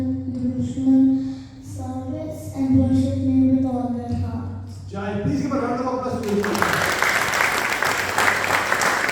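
An audience at a talk on the Bhagavad Gita breaks into sustained applause, dense and steady, after a stretch of sung or chanted voice.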